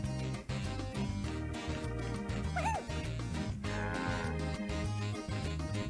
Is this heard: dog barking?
yes